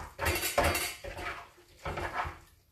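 Utensils clink and scrape against a bowl while avocado pesto with basil is mixed, in several irregular bursts of clattering close by.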